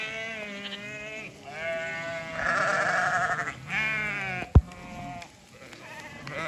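Sheep bleat loudly and repeatedly on a farm, several drawn-out wavering calls overlapping one after another, with a single sharp knock partway through and no talking.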